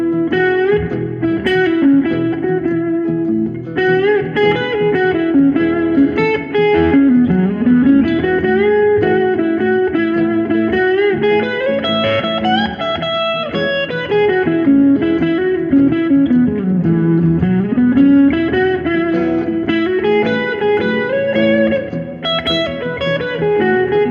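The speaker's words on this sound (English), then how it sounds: "the major pentatonic with distortion leads you into the realm of Southern rock" A distorted electric guitar plays flowing lead lines in a bright major pentatonic run, loud and sustained throughout.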